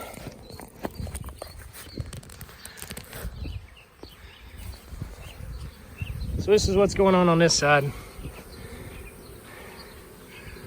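A swarm of honeybees hums in a dense, steady buzz while a person talks nearby, with a brief louder tonal burst rising over it near the middle.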